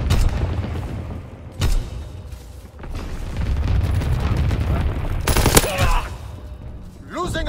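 Flak guns fire in Call of Duty WWII, loud rapid bursts of anti-aircraft fire and heavy booms over a continuous battle rumble, with one sharp burst standing out near the end.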